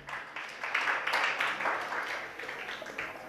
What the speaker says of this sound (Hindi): जो ताली बजाओ इनके लिए।